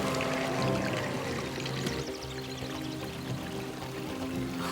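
Water flowing in a stream into a reservoir, a continuous close, fairly loud rush and trickle that holds steady for the whole stretch with no voices.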